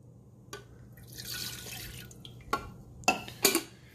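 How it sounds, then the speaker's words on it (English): Brewed coffee from a Keurig K-Cafe single-serve maker pours into a coffee pot, a soft splashing trickle indoors broken by a few sharper drips and clinks near the end. "I'm going to pour this into a coffee."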